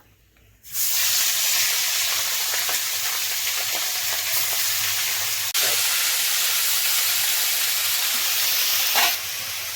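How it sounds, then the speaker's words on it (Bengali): Small puti fish rubbed with salt and turmeric frying in hot oil: a loud, steady sizzle and hiss starts abruptly and carries on unbroken, with faint pops and crackles, and no voices. "মাছটা আমি ভেজে নেব"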